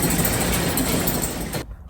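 A car called Tofu runs with a broadband engine roar being backed off a trailer into a shop, steady and close for most of the moment before cutting off abruptly near the end.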